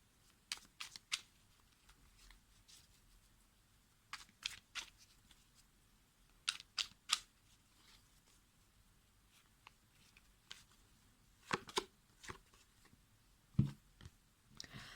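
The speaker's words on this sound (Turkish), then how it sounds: "Şimdi ben buna bir kart çekmek istiyorum." A tarot card drawn from the deck, faint soft flicks and shuffling taps scattered in a quiet room, with a few sharper clicks near the end.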